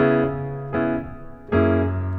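Three sustained piano chords sound one after another, each entering with a sharp attack and ringing on, with no voices in between.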